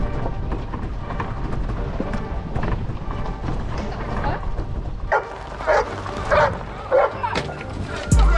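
A Giant Schnauzer barks at a trespasser near a golf cart, several deep, loud barks bursting out in the second half after a stretch of busy outdoor rustling and movement.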